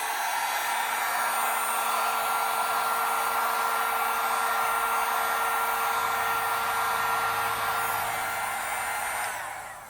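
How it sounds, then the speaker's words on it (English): Inexpensive Harbor Freight heat gun blowing hot air in a cold garage, a loud steady fan whir with a constant motor whine that holds evenly for about nine seconds before winding down as it shuts off. "I have my heat gun I got from Harbor Freight. Super inexpensive."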